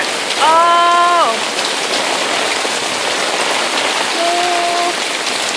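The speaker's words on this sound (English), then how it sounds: "Never rained this hard." Very heavy rain pours in a loud, steady, dense roar, and a couple of brief whistle-like tones sound over it near the start and again later.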